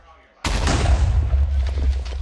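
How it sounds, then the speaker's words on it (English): An egg thrown at trees in the video game Minecraft explodes with one sudden loud boom, followed by a sustained rumbling blast and crackling debris. "Just take your egg, throw it at some trees, watch the explosion."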